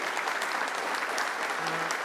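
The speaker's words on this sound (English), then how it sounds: "Let's give a round of applause to Jennifer Robb" An audience at a governor's economic development announcement applauds Hunter College president Jennifer Robb, a brief, steady round of clapping from the room.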